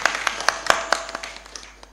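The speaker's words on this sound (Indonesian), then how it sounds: "Tepuk tangan untuk seluruh kru Bandung Bondowoso." A crowd applauds the Bandung Bondowoso crew at a 100-day memorial gathering. The clapping is close and lively, with sharp individual claps standing out over a steady patter, and it gradually tapers off.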